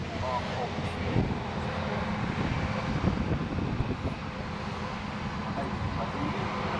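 An Airbus airliner at the Farnborough air display gives a steady, wind-buffeted engine rumble from a distance, with people talking over it.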